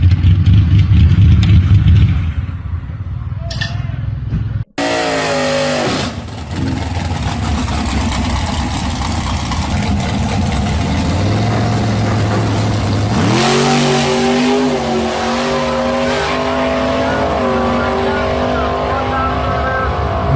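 Gasser muscle cars at a drag racing start: loud engines rev, then burst into a roaring launch with climbing pitch that stays strong as they pull away, with voices in the background.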